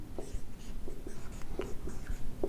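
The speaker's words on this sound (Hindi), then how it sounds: "अब एक हेडिंग लिखेंगे हम" Chalk tapping and scraping on a classroom board as a heading is written, a run of short, close scratchy strokes and taps with no talking.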